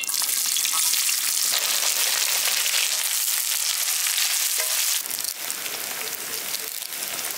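Mustard seeds and small onions frying in hot oil make a loud, dense, continuous sizzle and crackle close by, swelling with a fresh burst partway through. No one speaks.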